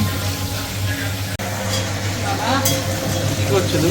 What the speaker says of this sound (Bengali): আমি হালকা হালকা করে একটু চিকেনটা ভেজে নেবো